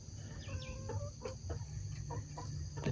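Backyard coop chickens cluck steadily in a short series of close, overlapping calls over a constant hum.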